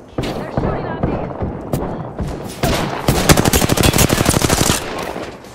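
Automatic weapon fire in the Apex Legends battle game: bursts of shots build into a dense, rapid, loud rattle over the last seconds, with game sounds layered beneath.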